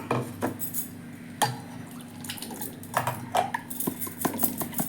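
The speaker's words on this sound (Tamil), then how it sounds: "இதில் கொஞ்சம் தண்ணி ஊற்றிக்குவோம்" Water poured over squeezed lemon through a strainer for lemon rasam, caught as a few short splashes and clinks of a steel vessel in a quiet kitchen, close by with gaps between.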